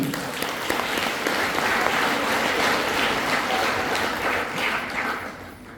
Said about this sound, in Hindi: आपके लिए एक जोरदार ताली होना चाहिए